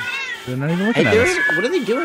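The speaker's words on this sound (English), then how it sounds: "Yep, that's a cat." Cat meowing in a video game, a few drawn-out rising and falling meows heard close and clear while people talk over them.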